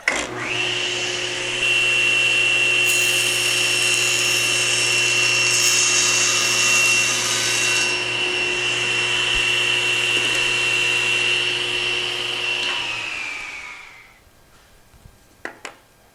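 Table saw trimming a very thin sliver off the end of a wooden board using a miter gauge, a loud steady whine running for about thirteen seconds before spinning down, followed by a couple of light knocks.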